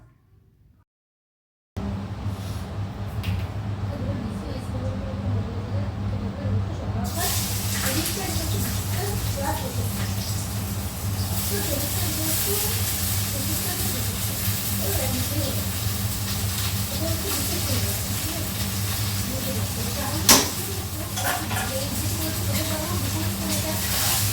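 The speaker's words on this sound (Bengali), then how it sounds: "এটাতে এখন আলু ভাজবো" Potatoes sizzle and hiss steadily as they fry in oil, with a low hum underneath and a brief clink near the end.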